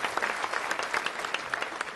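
An audience at a county State of the County address applauds oil industry workers, with brief, lively clapping from a crowd throughout the short stretch.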